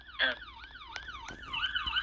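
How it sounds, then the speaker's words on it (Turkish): Police car sirens wail in overlapping rising and falling sweeps, loud and close, with several vehicles sounding at once and no talk over them. "Herkes polis araçlarını çıkarsın. Havalı olsun böyle. Sirenlerini de açık bırakın."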